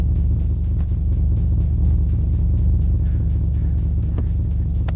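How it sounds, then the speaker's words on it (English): Steady low engine rumble of a rebuilt BMW in a video game, idling continuously, loud and close, with faint regular ticking on top. "The car's very loud, I can still hear it rumbling."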